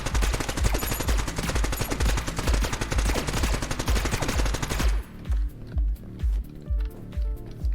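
Rapid automatic weapon fire from the video game Neon Abyss rattles loudly and continuously, then thins into a steady rhythm of heavy, regularly spaced bassy shots.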